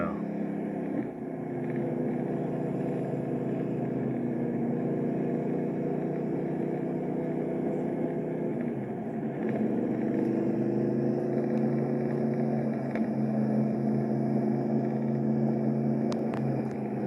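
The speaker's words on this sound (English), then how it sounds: "taking a nice drive in a 63 Shelby 260" A 1963 Ford Shelby Cobra 260 V8 drones steadily while cruising on a mountain road, its low engine note rising in pitch partway through, continuous and close throughout.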